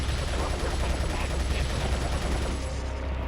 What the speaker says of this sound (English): And now there's just a rocket launcher shot.